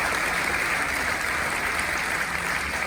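Audience applause at a mayor's New Year's wishes ceremony in Saint-Victoret, 2024: steady, dense clapping from a crowd, sustained at an even level with no pauses.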